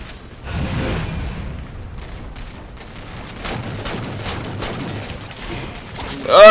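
Steady barrage of gunfire from a Halo 4 Big Team Infinity Slayer multiplayer match on Ragnarok, with dense overlapping shots and booms throughout and a louder burst at the end, voices chattering faintly underneath.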